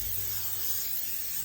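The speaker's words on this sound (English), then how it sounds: "with some cooking spray" Aerosol cooking spray hissing onto unpeeled potatoes, one steady close burst lasting about a second and a half, bright and breathy, alone without talk.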